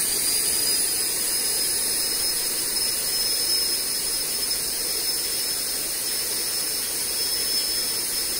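An electric ducted fan runs on a load cell test stand, giving a steady, loud high-pitched whine with broadband hiss that holds constant throughout, close and alone.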